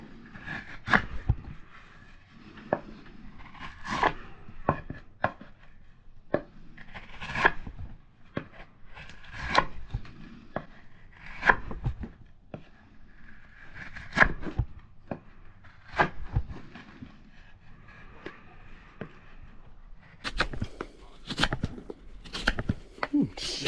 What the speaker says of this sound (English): I know the easier way. Use your knife.